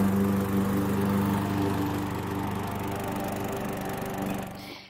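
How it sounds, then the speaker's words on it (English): A 21-inch lawn mower cuts patchy Bermuda grass, its engine droning loudly and steadily up close, dipping slightly midway before cutting off at the end. "this is the Bermuda grass that we are cutting. We are using a 21-inch mower to do it."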